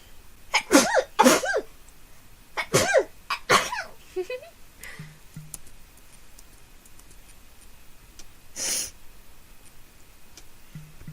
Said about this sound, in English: I love sneezing.